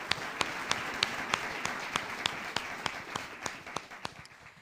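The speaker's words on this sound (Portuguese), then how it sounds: "E aquela salva de palmas ao Rei dos Reis," Applause from a church congregation honoring Jesus during a worship service, a steady moderate patter with distinct sharper claps rhythmically standing out, somewhat distant and fairly quiet.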